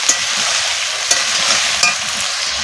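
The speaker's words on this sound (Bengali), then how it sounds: "আলুগুলো সুন্দর করে ভেজে নেব" Potato pieces fry in oil left from frying fish, giving a continuous bright sizzle with a few sharp crackles and stirring knocks spread across the short stretch.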